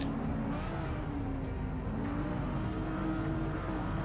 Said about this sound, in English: that's a different sounding rev limiter, isn't it?